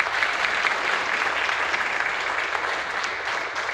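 An audience at a business event claps steadily, a broad, even wash of many hands at moderate loudness, continuous from start to finish without a clear peak.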